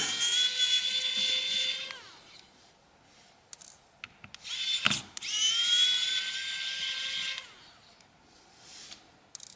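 A small electric screwdriver backs screws out of a BLU G33 phone in two long whining bursts. Brief clicks and taps sit between them, close and fairly quiet.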